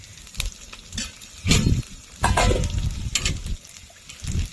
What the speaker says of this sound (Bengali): আদা রসুন দিয়ে কিছুক্ষণ নেড়ে নেব যাতে আদা রসুনের কাঁচা গন্ধটা চলে যায়